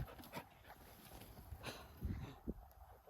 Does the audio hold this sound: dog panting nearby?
yes